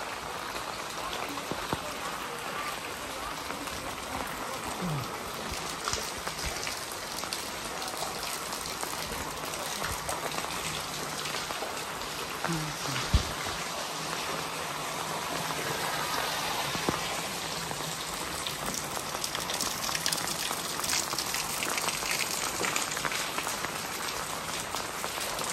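Steady rain pours in an urban village in Xi'an, a dense continuous patter of drops on surfaces and umbrellas, close and even throughout, with faint voices beneath.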